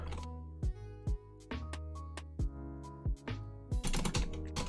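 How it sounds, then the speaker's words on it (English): Sharp keyboard and mouse clicks sound in separate bursts over a steady musical drone, ending in a faster flurry of clicks. "Okay, I'm clicking the mouse and the keyboard,"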